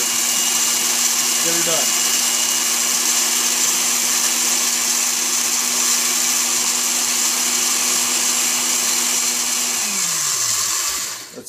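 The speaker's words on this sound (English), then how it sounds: "However many buttons you have in your blender," Kitchen blender grinding and chopping peppers for pepper steak, a loud steady whirring drone that runs for about ten seconds before winding down, with a brief voice near the start.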